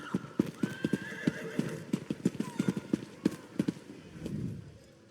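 Horses in the video game Elder Scrolls Online, at Stros M'Kai, clip-clop on hard ground in a quick, uneven rhythm close by. A whinny rises partway through and a soft neigh comes near the end.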